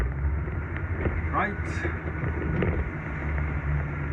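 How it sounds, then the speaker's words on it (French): A boat motor idles at low revs near Blankenberge, a steady low rumble with wind and water noise throughout while someone speaks briefly over it. "Ici je devrais mettre un petit peu de moteur quand même."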